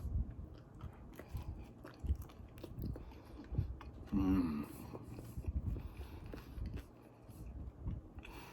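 Biting into and chewing a still-warm homemade wheat English muffin, untoasted, with soft close crunches and steady mastication in uneven bursts, a louder bite near the middle.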